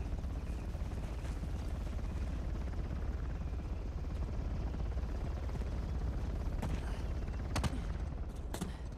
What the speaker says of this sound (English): Chopper's airborne.